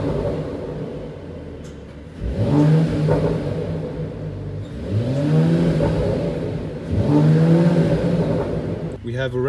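A 2021 Mercedes-AMG E53 convertible set to Sport Plus idles with a low rumble, then revs three times up to its limiter. Each loud, rising engine note falls back to idle between the revs.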